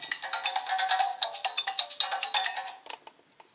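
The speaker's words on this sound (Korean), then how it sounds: "약간 정글 느낌의 음악이 나오네요." A small electronic Power Rangers Animal Force morpher toy (DX Zyuoh Changer) plays a bright, tinny jungle-style melody with percussive plinks, fading out into a few scattered clicks.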